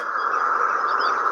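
Recorded birdsong plays from a small battery-powered relaxation sleep aid, a continuous, slightly tinny wash of chirping heard up close for just over a second.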